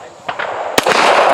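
Rifle shots at an outdoor range fitted with a red-dot optic: a softer report followed by a loud, sharp crack with a short decaying tail, close by.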